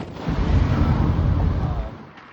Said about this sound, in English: Ballistic missile?